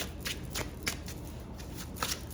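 A golden tarot card deck being shuffled, with repeated crisp riffling bursts at a steady rhythm, close and fairly quiet, with no talking.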